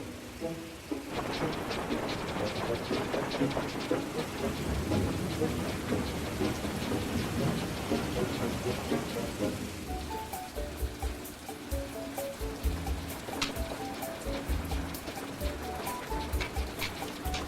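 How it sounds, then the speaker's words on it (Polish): Steady heavy rain pours down, joined partway through by a deep rumble of thunder, with scattered drips and patters closer by. "deszcz zaczął padać"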